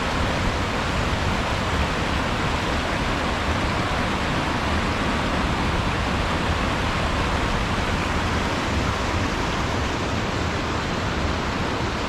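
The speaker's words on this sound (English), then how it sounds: "Look at all the water coming down through there." Water rushes steadily down a waterfall along the Collins Gulf Trail in South Cumberland State Park, Tennessee, a constant broadband roar at even loudness with no voices over it.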